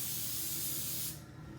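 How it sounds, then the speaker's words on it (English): A short, steady hiss of spray adhesive aerosol onto the sticky side of a zip tie close by, cutting off after about a second. "So on the sticky side of the zip tie, gonna spray this good"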